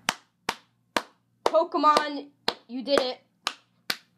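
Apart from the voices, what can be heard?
person clapping hands for a Pokémon trailer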